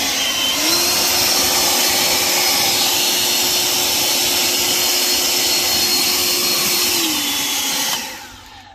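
Kobalt 500 CFM cordless brushless battery leaf blower on turbo setting, a loud steady high-pitched whoosh and whine that ramps up, holds for about seven seconds, then spins down, with no voice over it.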